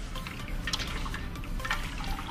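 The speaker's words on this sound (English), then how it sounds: "basically what we're going to do is mix all of this up until it's dissolved" Raw cane sugar is stirred into hot water for piña colada wine, soft sloshing and scraping swirls with a few brief splashy strokes, close and moderately quiet.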